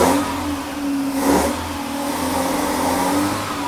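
A Mazda 929 engine, freshly running and still slightly rough, revs up steadily with a loud, close mid-pitched roar and a brief surge, holding a strong sustained drone throughout.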